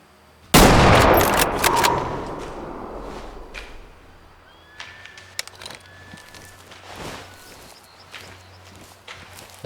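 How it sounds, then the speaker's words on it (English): A single loud rifle shot at a deer in the hunting game Way of the Hunter cracks sharply and rolls off in a long echoing tail, followed by faint rustling footsteps and distant bird calls. "I felt I had to take that shot because if I allowed them to move too far up here"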